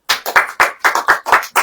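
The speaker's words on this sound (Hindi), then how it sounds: "ताली बजाइए।" A church congregation claps hands in a quick, steady rhythm, about eight sharp claps in under two seconds, loud and close with no voices.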